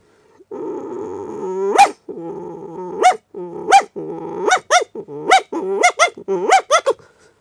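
A voice imitates a big dog, starting with a low rumbling growl and then giving a run of about a dozen deep, gruff barks in an irregular rhythm, loud and close.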